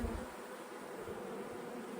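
Honey bees hum continuously around hives in an apiary, a faint, even drone of many wings with no voices.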